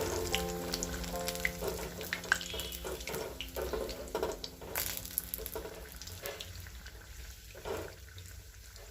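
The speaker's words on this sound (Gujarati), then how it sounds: "આ રીતે તેલની અંદર નાખી અને થોડા મીડિયમ ગેસ પર આપણે એને તળવાનું છે" Bhature deep-frying in hot oil over a medium flame, a steady bubbling sizzle that runs the whole time with small crackles and watery splashes, close and moderately loud.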